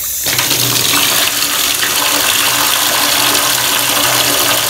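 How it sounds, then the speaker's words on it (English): Cold water gushes from a bathtub tap into a bucket, a loud, steady splashing rush that starts abruptly after a brief moment and continues unbroken, with no talk. "We're going to get our water from the bathtub."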